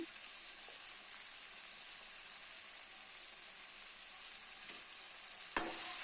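Sambar powder and chilli powder frying in hot oil, a steady close hiss of sizzling with a few faint stirring knocks and one sharper clink near the end.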